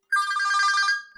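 Phone ringtone in a Pakistani drama scene, a bright electronic warbling melody that rings steadily for about a second, loud and close, with no talk over it.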